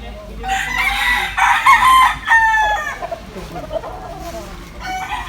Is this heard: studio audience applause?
no